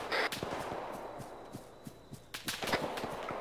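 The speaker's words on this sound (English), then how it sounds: "I'm hearing shots to our east" Gunshots ring out in a military video game, a scatter of sharp distant cracks and short bursts at irregular intervals, some doubled, over a low background hum with no talk.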